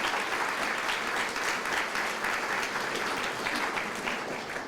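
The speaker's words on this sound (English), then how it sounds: "If we would give them a round of applause," School audience at an elementary school anniversary celebration clapping for the staff, dense continuous applause from a large crowd holding steady and tapering slightly at the end.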